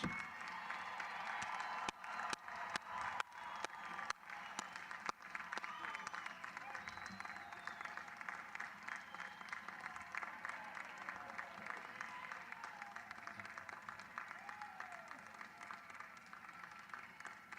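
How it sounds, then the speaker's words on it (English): A large commencement audience of graduates and families applauds in a sustained, dense wash of clapping with some cheering, steady and loud throughout, with a few sharper claps standing out early on. "Let's give them a round of applause."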